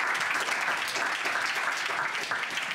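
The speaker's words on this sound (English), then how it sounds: "So let's give him a round of applause." Steady audience applause fills the room at a university career panel, dense and even from start to finish with no pauses, close and fairly loud throughout.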